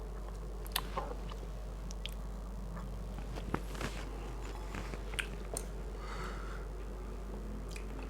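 Someone bites and chews spicy seblak, a Bandung-style dish, producing close, crisp crunches and wet chewing clicks at irregular intervals over a steady low hum.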